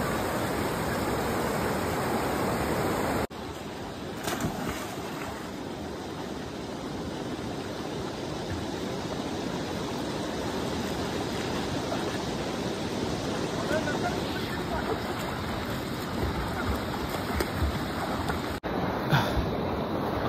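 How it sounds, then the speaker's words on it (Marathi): A swollen river rushing strongly, a dense, constant roar of flowing water heard close and loud throughout, with wind buffeting the microphone and faint voices underneath. "फ्लो किती जोरात आहे पाण्याचा"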